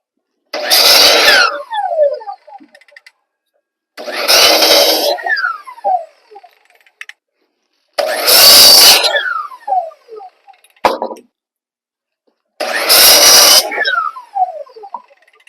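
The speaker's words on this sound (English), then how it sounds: "I think I've got the 2x4 cut for this wall" A power saw cuts a 2x4 plank for a wall frame, with four loud, separate bursts of sawing, each lasting about one to two seconds and each followed by the blade winding down, with no talk.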